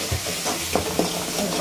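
Pasta with red chilli sauce and soy sauce stir-frying in a pan, a steady sizzle broken by a few soft scrapes and knocks of the stirring utensil, close and moderately loud.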